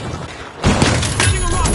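A frag grenade explodes in the arena shooter The Finals, a sudden loud shattering blast about midway through that leaves a dense, crackling rumble, with speech over the game noise.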